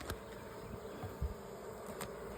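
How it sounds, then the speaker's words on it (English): Bees swarming around a hive, a faint continuous buzzing hum with a few brief louder passes close by. "it's not fun dealing with all these bees"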